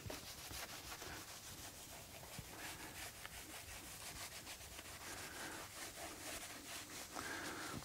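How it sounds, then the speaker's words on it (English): A cloth rubbing and wiping an anodized aluminum StopTech Trophy brake caliper from an S2000 with isopropyl alcohol, giving steady close scrubbing and swishing strokes that run continuously throughout. "So I'm wiping it off with some IPA."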